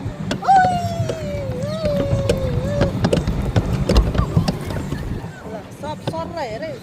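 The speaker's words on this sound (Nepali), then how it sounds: "हामी आज डुङ्गामा चढ्दैछौँ" A small boat moving across water on a ride, with soft sloshing and occasional knocks and creaks under lively talk and laughter from people on board.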